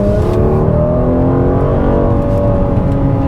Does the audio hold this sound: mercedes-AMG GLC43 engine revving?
yes